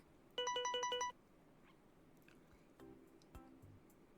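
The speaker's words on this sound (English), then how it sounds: "Is that her phone ringing?" A mobile phone ringtone in a dating sim game plays as a short burst of rapid electronic beeps, quiet and clear over a faint background, followed by soft scattered clicks.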